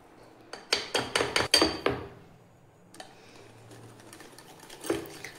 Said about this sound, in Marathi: तर याला छान फेटून घ्यायचं।